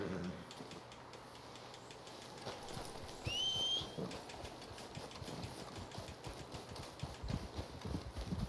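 Horse hooves clip-clopping steadily in Red Dead Redemption 2, a rhythmic trot at moderate distance over a low ambient bed, with a brief whistle-like tone partway through.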